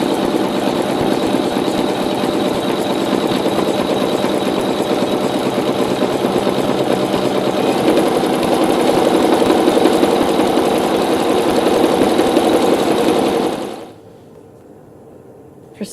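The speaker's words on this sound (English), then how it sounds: "Now it's going to do some stem stitches, and both on the diagonal and also around the edge of the blue and orange area." A quilting sewing machine runs steadily while it sews stem stitches along a diagonal and around the edge of a patchwork block. The whirring stitching stays even for about fourteen seconds, then stops abruptly.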